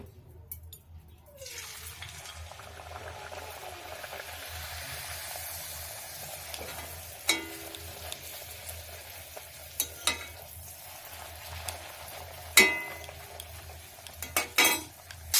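Oil heating in a wok for frying luchi gives a steady low sizzle and hum, broken by occasional metallic clinks and scraping of a utensil against the pan.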